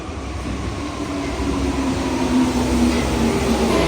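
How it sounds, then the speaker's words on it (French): A Paris metro train rides along, heard from inside the carriage as a loud, steady rumble and drone with a faint rising whine and no voices. "Là, je vais prendre le métro."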